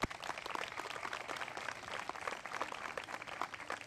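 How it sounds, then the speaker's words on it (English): Faint, distant applause from the crowd at an outdoor preserve dedication ceremony, a thin continuous patter of many hands clapping without pause. "So give yourselves an applause and thank you so much."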